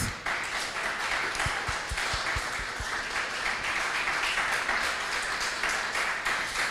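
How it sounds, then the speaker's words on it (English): Audience applauds the presenters after a panel on the Russia-Ukraine crisis, a full, sustained round of clapping from a sizeable crowd with some low thumps near the start. "I believe all our presenters deserve a louder round of applause."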